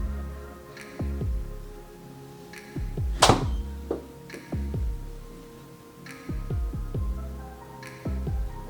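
A golf club strikes a ball indoors toward the camera with one sharp, loud crack, set among duller recurring thuds in an enclosed room.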